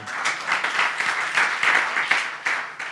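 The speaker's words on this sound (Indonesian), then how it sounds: "Tepuk tangan buat istriku." Audience applause for a pastor's wife at a leaders' marriage camp church session, a steady dense wash of many hands clapping at moderate loudness throughout with no talk.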